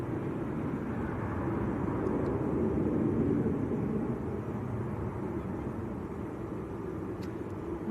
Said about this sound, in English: we said we'd bow out on the Qatar. That is taxiing back to the terminal